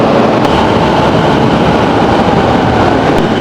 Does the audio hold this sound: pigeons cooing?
no